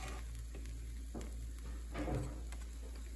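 A thick Kaiserschmarrn pancake sizzles steadily in a pan while a utensil shreds it, with soft scraping strokes and taps under a constant low hum, no talking.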